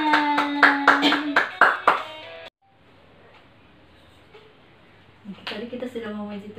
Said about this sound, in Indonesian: Semuanya tepuk tangan.